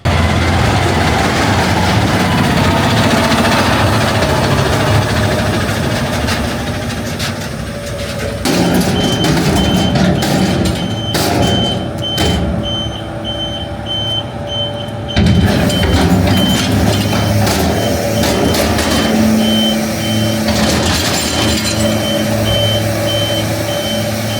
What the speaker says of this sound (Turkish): özel bir ekip konteyner yıkama aracıyla şehir merkezi ve kırsal mahallelerdeki çöp konteynerlerini hijyenik hale getiriyor